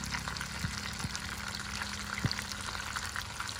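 Black pomfret fish frying in a pan with lemongrass and chili, giving a steady, close, dense sizzle throughout with a few faint clinks, no talking.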